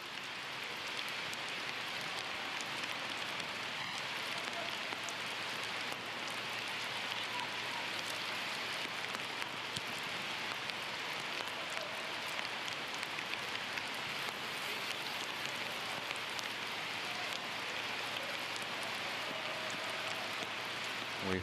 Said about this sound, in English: 31 minutes of persistent rain